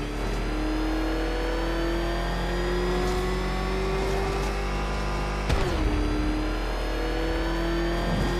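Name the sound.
Batmobile engine revving in Batman Arkham Knight video game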